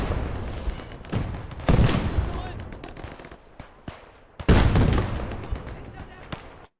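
Field guns firing in Call to Arms: Gates of Hell on the Eastern Front, USSR against Germany, two heavy booming shots standing out over rattling machine-gun fire and scattered battle noise while someone talks.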